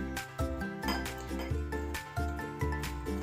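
A spoon clinks repeatedly against a bowl while macaroon batter is stirred, making bright, ringing, rhythmic taps close by with no one talking.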